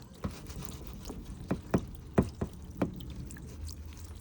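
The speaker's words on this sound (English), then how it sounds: "So a little bit of water." Water trickles and splashes onto the paintwork of a Fiat 500 before a clay bar is used, giving a handful of brief wet taps and drips spread irregularly over a few seconds, close and fairly soft.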